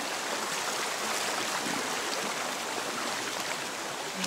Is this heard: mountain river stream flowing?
yes